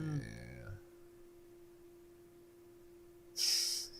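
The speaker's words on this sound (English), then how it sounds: "last sniff that gets me" A brief voice fades into a quiet, humming pause, then a single sharp nasal sniff hisses through near the end.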